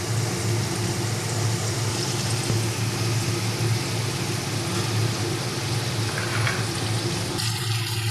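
Masala fries over hilsa fish in a kadai, a loud, dense, unbroken crackle of oil close by that runs through the whole stretch, with a faint clatter near the end.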